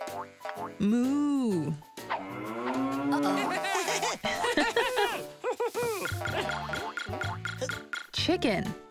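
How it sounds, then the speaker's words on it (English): Cartoon-style cow mooing in a children's farm animal learning show, several drawn-out wavering moos alternating with sliding comic sound effects and playful vocal sounds. "Moo."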